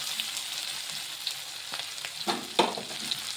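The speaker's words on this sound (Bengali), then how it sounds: "এটা আমি ভালো করে ভেজে নিচ্ছি।" Chopped chili and ginger frying with a pinch of asafoetida in a pan, a steady close sizzle and hiss with a few louder stirring scrapes and clacks near the end.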